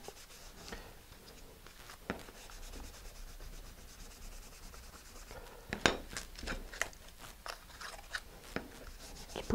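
A small rotor blade is lightly sanded with a green scrubbing pad: soft, close, faint scratchy rubbing strokes in an uneven rhythm, with occasional sharper ticks and scrapes.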